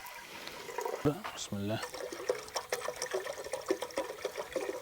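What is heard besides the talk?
water poured into a pot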